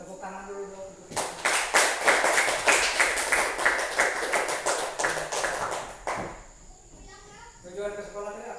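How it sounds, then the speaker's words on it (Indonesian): Children in a classroom clap together in a lively burst of applause lasting several seconds, sharp and close, fading out as a voice speaks afterward. "Tepuk tangan dulu dong untuk kita."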